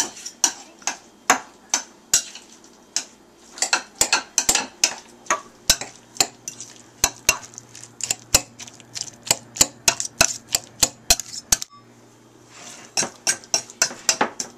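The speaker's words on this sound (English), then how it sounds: "There's no perfect way to mash avocados." Avocados being mashed for guacamole give a series of sharp, close tapping and clicking knocks, like a utensil against a bowl, in an uneven rhythm with a brief pause near the end.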